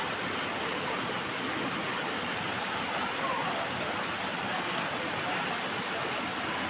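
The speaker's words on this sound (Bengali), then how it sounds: "সেই ভোর থেকে মারাত্মক বৃষ্টি হচ্ছে" Heavy rain falls in an unbroken, even wash of hiss, loud and close throughout, with no other distinct sounds standing out.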